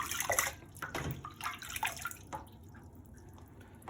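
Irish moss is rinsed by hand in a bowl of water, with faint irregular splashes and drips that sound quieter and sparser toward the end.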